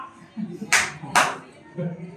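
Two sharp hand claps ring out, roughly half a second apart, over a quiet singing voice performing a lullaby-style cradle song at a singing competition.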